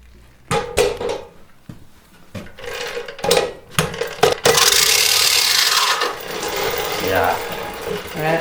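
Old British push lawnmower with its cutting blades spinning, giving a bright, rasping whirr like razor blades that swells after a few short scraping bursts, then holds steady at close range.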